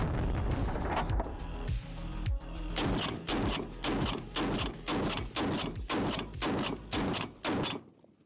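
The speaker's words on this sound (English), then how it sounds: "There's something manly and badass about hip firing a 50 cal." A Serbu .50 caliber rifle fired from the hip, a run of heavy booming blasts in close succession, each followed by a quick muffled thud, loud and close.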